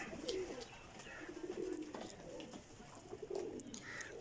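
Rampuri and Teddy flying pigeons coo in soft, repeated low bursts at moderate distance, with faint background noise and no talk.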